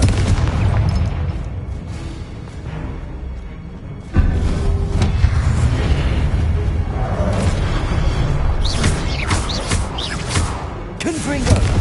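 A Confringo blasting curse from a Harry Potter game detonates as a loud, sudden boom, followed by a sustained rumbling roar with scattered crackles and later bursts.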